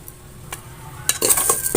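Raw rice stirred and toasted in a pan or pot to make rice coffee, heard as a few short scraping, clinking strokes of a utensil against the cookware, growing louder toward the end, with no talking.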